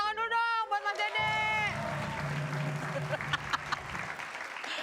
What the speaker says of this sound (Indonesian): tepuk tangan dulu dong buat Mas Dede